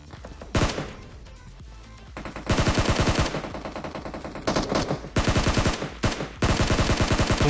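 Bursts of automatic gunfire ring out during a PUBG Mobile solo-versus-squad match on the Rozhok map, loud and close. Repeated sharp volleys are separated by brief gaps, with some rapid-fire stretches.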